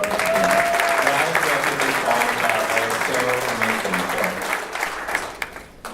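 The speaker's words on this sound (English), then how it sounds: "another round of applause for Amon" An audience at a 2019 donor-recipient scholarship reception claps in dense, sustained applause that thins and fades toward the end, with voices faintly mixed in.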